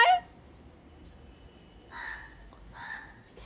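Crows caw from a rooftop in two short bursts, moderately far off and fairly quiet against a low background hum, with a brief louder sound right at the start.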